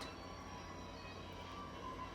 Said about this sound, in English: Do you hear that? That's the train,